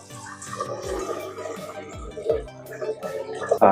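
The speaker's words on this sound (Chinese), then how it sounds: "我们把这个清水呢倒下去" Clean water is poured into a blender jug holding rice for rice noodle rolls, a close, gurgling splash that rises and falls over a few seconds with bubbling near the end.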